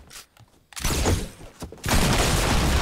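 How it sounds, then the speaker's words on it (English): Gunfire in the video game Fortnite: loud, dense bursts of shots and impacts crowd the clip, breaking off briefly and then returning heavier and sustained. "We're getting shot."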